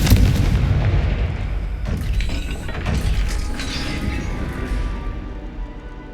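A Confringo blasting spell strikes a gate in the Hogwarts Legacy video game, giving a heavy explosive boom with crashing, crumbling debris that rumbles on and slowly fades over several seconds.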